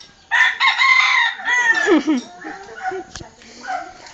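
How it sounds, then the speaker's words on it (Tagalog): A chicken clucks and calls in a loud burst at close range, mixed with a rooster-like crow, while people talk over it. "there come the chicken. There's the chicken"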